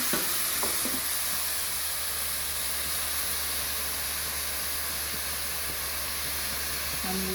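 A seasoned Jamaican pigtail tossed into a hot pot gives a steady, loud frying sizzle and hiss that fills the whole stretch, with faint clinks near the start and end.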